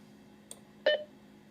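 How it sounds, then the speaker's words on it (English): A Macintosh running System 6.0.8 gives a low battery warning, a single short tonal beep preceded by a faint click, close and alone in a quiet room. "Your battery just beeps at you."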